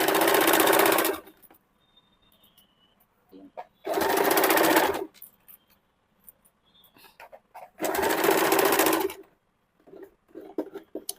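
Sewing machine stitching the side seam of a princess-cut kurti, in three loud bursts of about a second each, separated by pauses filled with quiet handling of the fabric.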